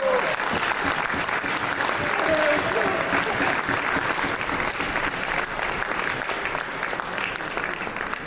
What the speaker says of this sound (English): Can we have one more round of applause for Suhaya Bro, please?